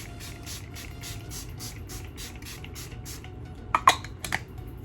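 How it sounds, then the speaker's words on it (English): Makeup setting spray is pumped onto a face in a quick run of soft, evenly spaced misting puffs, followed by a few sharper clicks from the bottle, close and fairly quiet. "Let me spray, because I got a lot of powder on my face."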